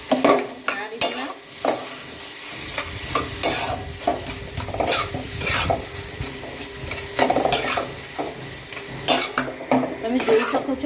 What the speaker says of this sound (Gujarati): અને હવે આપણે જે બટાકા મેશ કરી મૂક્યા હતા એ નાખી દઈએ અને સરસ મિક્સ કરી લઈએ।